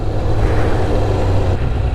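A Kawasaki ZX6R Ninja motorbike engine revving in a town street in Penzance, Cornwall, a loud, close, sustained roar that holds steady without a break.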